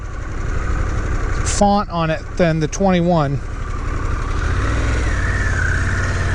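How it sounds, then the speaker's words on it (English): A 2022 Harley-Davidson Pan America Special motorcycle engine idles with a low, uneven rumble throughout, while someone speaks briefly over it near the start. "The engine sounds like it's got a bag of marbles in it, but I assure you that is the normal sound."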